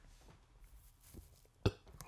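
A man burps straight into a microphone as he leans back toward it, one short loud belch standing out above quiet room noise with faint murmuring around it.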